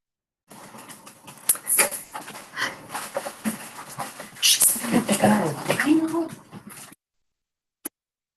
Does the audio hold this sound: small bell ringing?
no